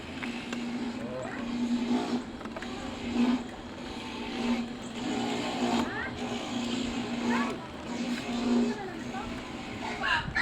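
A motorcycle climbs a steep, winding snake road, its engine droning steadily and rising and falling with effort, close and loud, while people talk over it.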